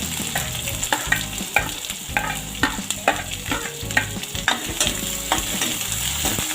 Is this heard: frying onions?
yes